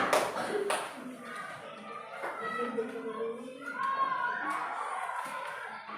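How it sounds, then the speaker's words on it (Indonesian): Scattered claps from a group of children in a classroom, a few sharp hand smacks followed by voices talking and chattering over the room. "tepuk tangan dulu buat kelompok Mangga"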